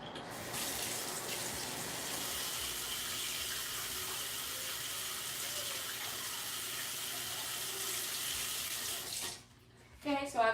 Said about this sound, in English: So I'm going to wash my utensils and clean up and wash my hands